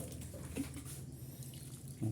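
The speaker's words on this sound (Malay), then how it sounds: "Lakukan penyiraman itu." Collected rainwater pours steadily onto a potted bougainvillea, a soft continuous splashing and trickling that stays close and fairly quiet throughout.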